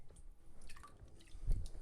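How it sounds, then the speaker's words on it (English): A shaving brush takes on water with soft wet squishes and drips at close range, ending in a louder squelch, with no talking. "let me get a little water into the brush here."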